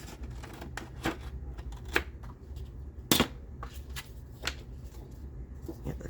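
Paper is cut down by about an inch and a half while making a folio, heard as a series of sharp, close snips and crisp clicks spaced irregularly over soft background rustling.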